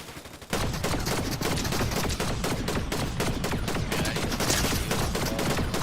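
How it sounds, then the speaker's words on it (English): Rapid automatic gunfire in Fortnite erupts after a brief quiet moment, then continues as dense, loud bursts of shots without pause until the end. "someone's shooting me"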